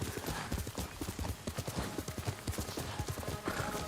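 Horse hooves clip-clopping at a steady trot in the video game Ghost of Tsushima, a rapid even rhythm of close hoofbeats over a wash of ambient game noise.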